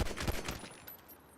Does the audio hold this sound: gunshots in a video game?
yes